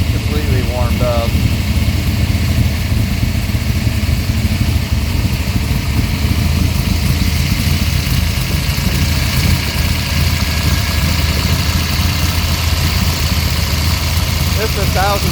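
An all-aluminum Pontiac 535 engine idles on pump gas with a 1050 CFM Dominator carburetor and Tiger heads, a loud, steady, rumbling low-pitched lope that continues unbroken and close throughout.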